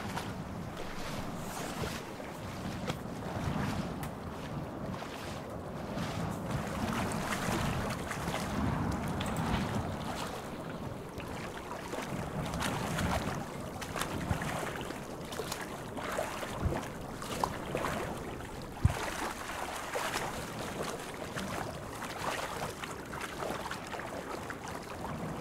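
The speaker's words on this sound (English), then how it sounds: "And then it'll be swimming in the lake for a while, which is one form of reverb applied to this swimming sample." Reverberant swimming in a lake from a fantasy game sound set: continuous splashing and sloshing water with a washy, echoing tail, fairly soft and steady throughout with no voices.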